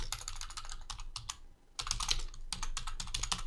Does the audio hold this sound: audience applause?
no